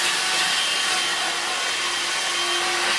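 A Vax Air Cordless Handheld H85 20V vacuum cleaner runs close by with a steady, broadband whooshing whine that holds constant for the whole stretch, with no voices.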